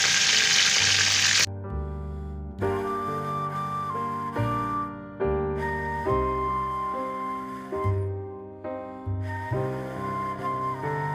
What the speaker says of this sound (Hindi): ऑयल हमारा गरम हो गया, इसमें प्याज शामिल कर दें